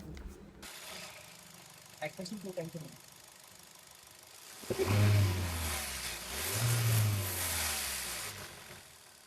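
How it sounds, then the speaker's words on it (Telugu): A Hyundai i10 car engine cranks and catches, then revs up twice in deep surges before settling, after a few faint clicks and knocks. "ఒకసారి స్టార్ట్ చేసి కూడా మనం ఇంజిన్ కండిషన్ మనం చెక్ చేద్దామండి"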